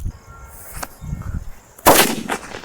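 A Lakshmi Gold day firecracker bursts for Diwali: a faint small pop near the start, then one loud, sharp, close bang with a brief rumbling tail.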